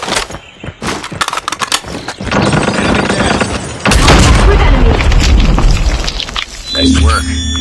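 Frag grenade explosion in the mobile shooter game Call of Duty Mobile, a loud booming blast with lingering rumble amid dense in-game gunfire and crackling, with voice callouts mixed in.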